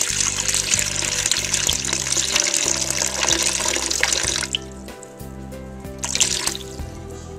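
Distilled water pours in a steady stream close by for soap making, then stops briefly and resumes for a moment against a low electrical hum.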